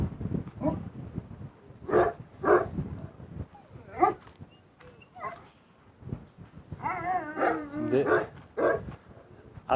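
A dog makes short barks and whines close by, several bursts spread irregularly across the clip.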